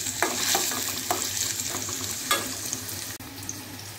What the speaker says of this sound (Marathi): आता थोडासा बारीक चिरलेला टोमॅटो घालायचा आहे। थोडंसं तेलामध्ये चांगलं परतून घ्यायचं।